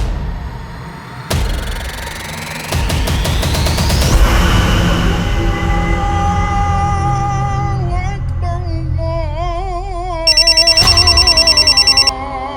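A telephone rings indoors in a Hindi crime drama, its electronic ringing tones warbling repeatedly over a music bed, then a brighter burst of rapid ringing near the end, loud and close with no talk.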